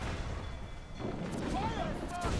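Ship cannons fire in a naval battle in Assassin's Creed Freedom Cry, several booming broadside shots over continuous rumbling battle noise, with shouted voices heard among the blasts.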